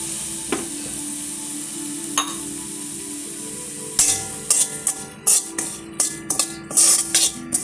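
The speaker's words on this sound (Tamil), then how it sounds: "அதே நெய்யில் ரவை கொட்டி வறுத்துக்கலாம்." Semolina roasting in ghee gives a steady frying sizzle with a quiet start, then a run of scraping stirs and metallic clinks close by in a pan.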